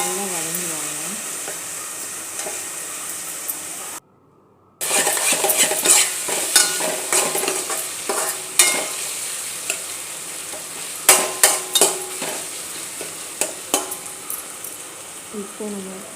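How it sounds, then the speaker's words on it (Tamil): Chopped tomatoes with salt sizzle in a hot pan for a fish curry (meen kulambu), with a constant frying hiss broken by repeated scraping and clinking of a spoon stirring against the pan. "தக்காளி நல்லா வதங்குவாங்க"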